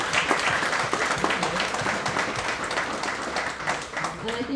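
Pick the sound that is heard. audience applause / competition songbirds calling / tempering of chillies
audience applause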